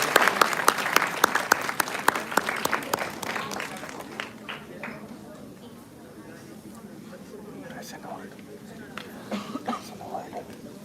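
Audience applause at a conference panel discussion, a dense burst of clapping that thins out after a few seconds, leaving scattered claps, coughs and murmuring in the room.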